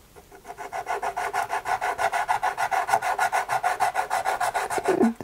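Soft pastel crayon rubbed across paper in quick, even back-and-forth strokes, a close, steady scratchy rasp repeating about five times a second with no talking.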